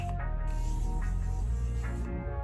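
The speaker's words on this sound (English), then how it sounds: "you shake it and then you close your eyes and back up a little bit." A makeup setting spray is misted onto a face in a few soft hissing bursts, close and fairly quiet, with no talking.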